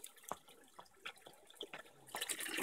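Cold spring water at a monastery spring is poured into a bottle, faint irregular splashes and trickles that build into a fuller, steadier gush near the end.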